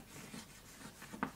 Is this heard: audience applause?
no